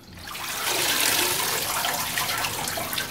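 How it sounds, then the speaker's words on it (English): Running water from a kitchen tap pours over callaloo leaves as they are washed, a loud, steady rushing gush that swells in the first half-second and continues alone. "But when you wash it off like this now, you move it from acidic"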